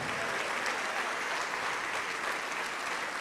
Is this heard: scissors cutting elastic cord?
no